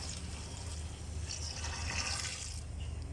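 Water pours steadily into a container while lard is prepared, a continuous close splashing hiss holding at an even level throughout with no talk over it.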